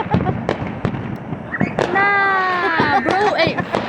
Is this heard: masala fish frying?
no